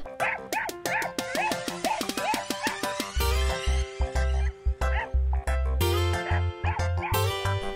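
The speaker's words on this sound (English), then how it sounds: "This is dog." Cartoon-style dog sounds in a kids' story setting, a run of rhythmic yips and bow-wows over a bright musical backing that turns heavier with a low bass pulse midway, close and fairly loud.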